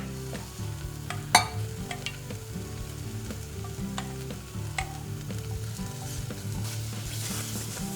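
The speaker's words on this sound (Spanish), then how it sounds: "Removemos bien hasta que quede todo integrado." Chocolate being stirred into warm sweet potato mixture in a pan on the stove, a steady soft scraping and low sizzle continuing throughout, with one sharp knock early on.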